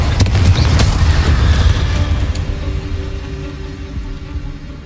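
An explosion spell in the video game Hogwarts Legacy goes off as a loud, close boom with crackling bursts, then a rumbling tail that fades away over several seconds.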